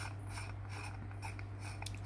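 A 49mm K&F Concept filter is twisted off a camera lens, giving faint, close ratcheting and gritty thread-rubbing clicks over a steady low hum.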